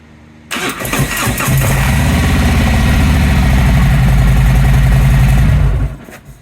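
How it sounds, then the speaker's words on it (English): Motorcycle engine cranking and firing up on a corroded battery, a brief crank giving way to a loud steady idle that runs close for about five seconds before cutting off. "I'm going to go ahead and give the bike a crank"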